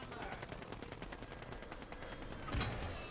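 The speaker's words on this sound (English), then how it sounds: "They're shooting me." Rapid bursts of automatic gunfire rattle through a video game firefight, sustained and fairly loud, with a heavier impact near the end; a player's voice talks faintly underneath.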